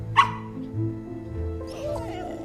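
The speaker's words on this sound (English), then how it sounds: "These dogs are purebred." Purebred dogs let out a sharp bark followed by softer whimpers and yips, fairly close, with people talking quietly in the background.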